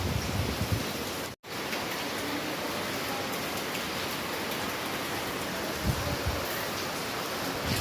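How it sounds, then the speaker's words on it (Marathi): Heavy rain pours steadily, a dense, loud hiss of drops with a brief dropout near the start. "आता पाऊस जोरात चालू झालाय अजून एकदम खतरनाक"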